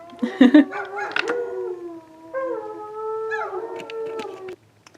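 A dog howls outdoors in long, wavering tones, starting with a couple of yips and rising into sustained howls that fall away into quiet at the end.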